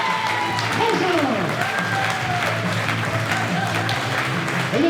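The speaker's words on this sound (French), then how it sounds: "Sous vos applaudissements pour la numéro 10, Julia Frangin." Spectators at an Epinal handball event applaud steadily for player number 10 during the jersey presentation, clapping continuous under a bright tonal sweep and background noise.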